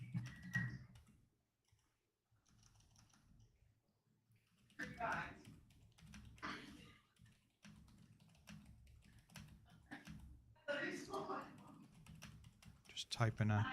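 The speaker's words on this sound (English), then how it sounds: "Just typing a thing." Soft clicking of keys on a computer keyboard, coming in short bursts with pauses, while a person talks nearby.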